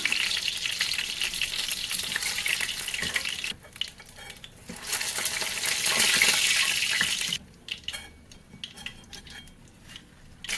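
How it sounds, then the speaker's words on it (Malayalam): Chicken pieces frying in hot oil for a Chinese-style steamed rice dish, a loud steady crackling sizzle that drops away briefly as the pieces are turned, then returns softer with clinks of a utensil. "ചിക്കൻ തിരിച്ചു മറിച്ചും ഇട്ട് പെട്ടെന്ന് തന്നെ അത് നല്ല മൊരിഞ്ഞ് വരും"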